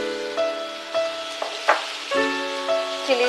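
Soy sauce, two tablespoons, hits a hot pan in a home kitchen and sizzles in short bursts, with faint tonal ringing in the background. No one speaks.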